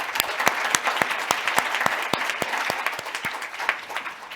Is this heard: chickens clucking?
no